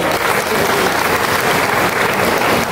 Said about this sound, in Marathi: मायाताई गुरांसाठी जोरदार टाळ्या वाजवा.